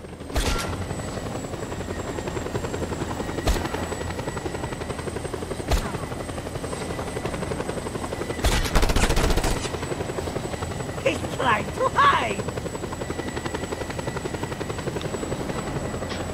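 A helicopter arriving in the video game Just Cause 2, its rotor thumping steadily and loudly throughout amid gunfire cracks and game sound effects.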